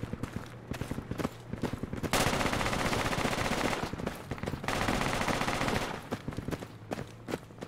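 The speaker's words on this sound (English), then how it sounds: "Covering fire!" Sustained automatic covering fire in the military shooter Project Reality, with long loud bursts of machine-gun fire separated by shorter rapid volleys and single shots, close and dense throughout.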